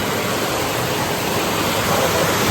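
Water pours down a waterfall at Puthur in a loud, continuous, broadband rush that stays even throughout, close by and with no voices.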